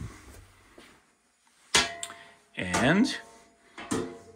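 Metal cover of a Generac 100 amp automatic transfer switch being opened after its front thumb set screw is loosened: a few sharp clanks and rattles spaced over several seconds, close by, with someone talking in between.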